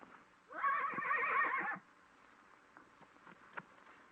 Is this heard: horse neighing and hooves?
yes